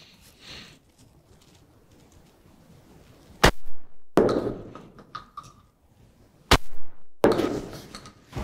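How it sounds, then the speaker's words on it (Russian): Two loud shotgun shots from a Benelli Comfort fired at a target 35 metres away, spaced about three seconds apart, each a sharp blast followed by a short outdoor echo, with no talking. "Первый выстрел я буду делать клевер, пятерка в контейнере."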